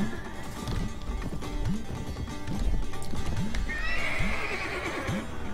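Horse neighing and galloping hooves in the Mount and Blade Warband video game: repeated whinnies over rapid clip-clop hoofbeats amid loud battle noise, with one long high neigh near the end.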